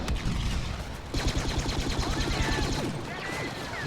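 Explosions and blaster fire crackle in the video game Star Wars Battlefront, a dense rapid barrage of sharp bursts layered over a continuous rumbling battle din.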